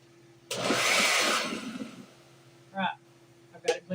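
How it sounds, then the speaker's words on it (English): A blender whirs through hot salsa verde in a jar about half full, one loud burst of roughly a second and a half that then fades away, followed by two short clatters. "So what I'm going to do is I'm going to blend this."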